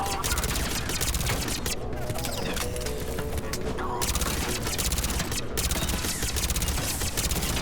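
Dense, continuous gunfire of fire bullets from a weapon in Mass Effect Legendary Edition crackles nonstop over a busy battle din, with brief gaps and a steady loud wash of shots throughout.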